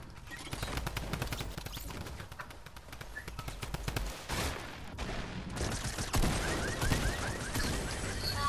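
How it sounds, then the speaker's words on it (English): Rapid bursts of drum gun fire in Fortnite, a dense stream of close, loud shots that rattles on for several seconds over a busy in-game background. "Drum gun."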